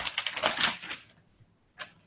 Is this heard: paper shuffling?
yes